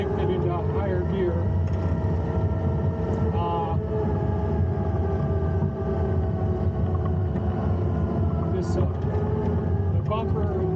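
A Takeuchi TL12 V2 track loader, fitted with a front bumper carrying a winch, runs its engine at a steady loud drone that climbs as it shifts into higher gear, with wind buffeting the microphone and a voice talking over it.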